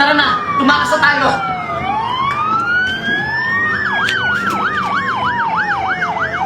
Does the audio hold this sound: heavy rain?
no